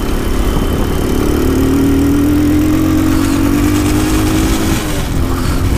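A supermoto motorcycle engine idles loud and close, holding a steady, even rumble with a slight shift in pitch partway through and no voices over it.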